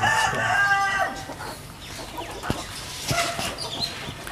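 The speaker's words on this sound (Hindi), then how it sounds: "जी ये हमारे पास एक बहुत ही पुराना मुर्गा, तकरीबन 8-10 साल इसकी एज है और बखर की नस्ल है ये।" An old Bakhar breed rooster crows near the start among other farm fowl, followed by scattered clucks and bird calls with some background voices.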